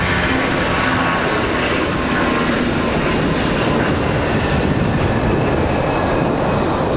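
A loud, steady roar from an airliner departing Raleigh-Durham airport on a windy day, with broadband engine noise filling the whole stretch and gusts of wind mixed in.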